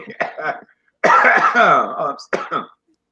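A person coughs several times up close, including a longer raspy throat-clearing cough in the middle, loud and harsh.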